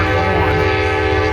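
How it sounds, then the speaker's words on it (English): Amtrak passenger train speeding past near Harpers Ferry, loud and close, with a sustained blaring horn over the rushing roar of the cars. "that train's a speeding up. It means business."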